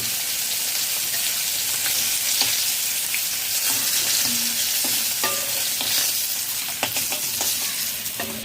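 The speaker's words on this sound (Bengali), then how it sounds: "আমি পাঁচ মিনিট মাছ ভেজে নিয়েছি মাছ ভাজা হয়ে গেছে" Rohu fish sizzles and crackles in hot oil, a loud continuous hiss with scattered pops and occasional scraping of a utensil, no talking.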